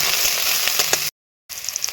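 Garlic hits hot oil in a pan and fries with a loud, steady sizzle, cut off by a brief dropout before the crackling resumes just as strongly.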